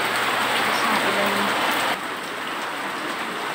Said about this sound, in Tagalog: Ang lakas po ng ulan guys.